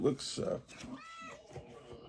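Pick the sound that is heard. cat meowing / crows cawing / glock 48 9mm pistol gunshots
cat meowing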